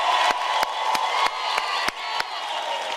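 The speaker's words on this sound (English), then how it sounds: "Let's give him a proper round of applause." Audience applause at a University of South Africa autumn graduation ceremony: steady, dense clapping from a large crowd in a hall, continuous for the whole stretch with a few sharp claps standing out near the front.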